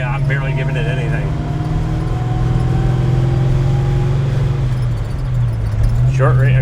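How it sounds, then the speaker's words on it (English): A 1971 Oldsmobile Cutlass 442 W-30 with a close-ratio 4-speed and 3.73 rear gears, driving with a steady low engine drone and a rising whine layered on top, loud and close inside the cabin. "I love the gear whine that you hear"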